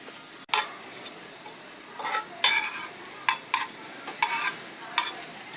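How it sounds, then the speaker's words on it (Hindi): Bread slices fry in hot butter in a pan, giving soft crackling sizzle with a series of brief sharper bursts and clicks at close range, with no talking. "बटर के गर्म होते ही मैं यहाँ पे ब्रेड के स्लाइसेस रख दूंगी।"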